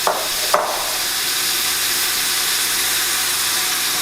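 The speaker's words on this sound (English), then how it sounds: "And hear the sizzle" Steady broadband hiss of pork sizzling in hot oil in a pot, continuous throughout, with two brief sharp clatters near the start.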